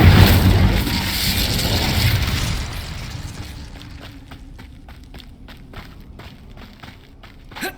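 A fire spell cast in Hogwarts Legacy bursts loud and broad at the start, roaring for about two seconds before fading into quieter footsteps and small clicks.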